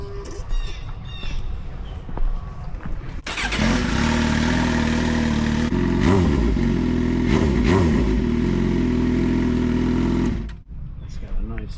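Background chatter gives way to a Suzuki GSX-R750 sport motorcycle engine starting and running loudly at a steady idle with a few revs, then cutting off abruptly.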